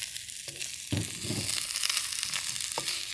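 Salmon and broccoli sizzle steadily in a frying pan, a loud continuous crackling hiss broken by a few sharp clatters of stirring or food shifting in the pan, with no talking.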